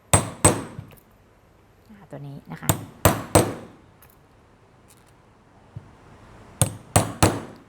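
Sharp hammer strikes on a metal punch driven into leather while making a cap, in pairs and small clusters separated by pauses, with someone speaking softly between blows.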